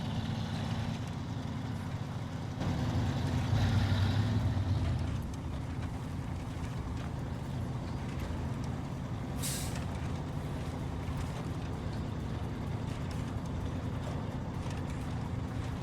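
A heavy truck drives along a straight stretch in SnowRunner, its engine a steady, low droning rumble throughout, with a brief hiss of air midway.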